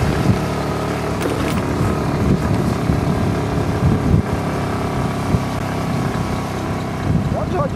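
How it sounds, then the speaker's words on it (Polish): A small motor scooter engine runs steadily nearby with a low, continuous drone and slight variations, while faint voices occasionally sound over it. "Dobrze chodzi ten motorek,"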